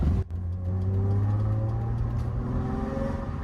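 An Audi A4 (B5) Super Touring car engine in a video game rumbles steadily with a throaty, uneven unequal-length exhaust note that rises slightly in pitch, heard alone without voices.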